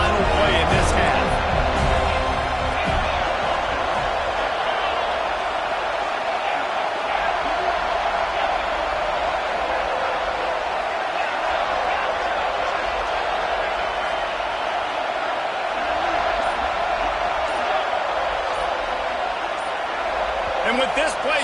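A stadium crowd roars at a college football game between Clemson and Florida State, a loud, sustained wall of noise that stays steady throughout, with a few sharp bangs near the start.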